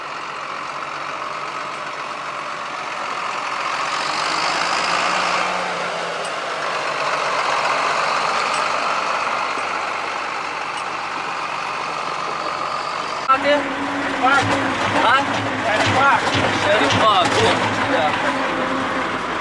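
An MTZ tractor engine runs steadily while driving across a farm field, a loud continuous diesel drone with a harsher rattling stretch toward the end; no clear talk over it.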